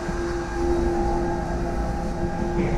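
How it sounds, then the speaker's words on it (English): A Virtus L 30 lump and purge shredder motor starts and settles into a steady, fairly loud electric hum with a constant whine, running alone without talk for the whole stretch. "And the motor starts up"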